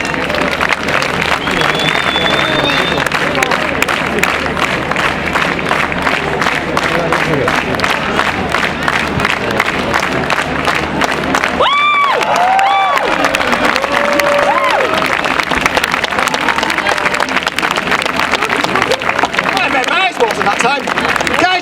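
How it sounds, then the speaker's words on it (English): A theater audience at a live variety show roars with continuous cheering, clapping and shouting, loud and dense for the whole stretch, with a few brief dips in the noise. "Could you please cheer?"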